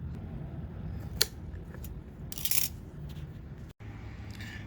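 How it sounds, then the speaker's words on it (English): Scissors snip through kikuyu grass stems close by, giving a few sharp, crisp clicks over a steady outdoor hiss, with no talking. "with my scissors, I've cut it down, these stems down to about maybe half an inch or so"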